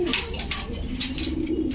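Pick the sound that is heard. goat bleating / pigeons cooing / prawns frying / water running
pigeons cooing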